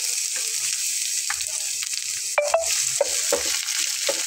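Garlic cloves and onion fry gently in a pan, producing a constant bright sizzle with occasional soft clinks and taps of a utensil, close up and without speech.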